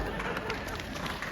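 At a comedy show, an audience gives a short burst of clapping that is steady and dense but modest. It fades out within about a second, with crowd murmur underneath.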